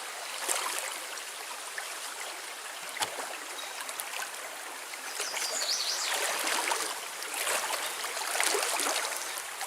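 Cold, deep river water in the Porcupine Mountains of Michigan churns around a backpacker wading across, a continuous close rush broken by splashes and sloshing bursts that grow louder toward the end.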